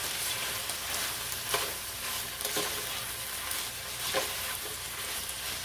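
Leftover frozen okra going into a simmering hamburger stew with beef broth, tomato soup and celery, giving a steady bubbling sizzle and stirring scrape throughout, with a few soft splashes and clinks near the middle and end.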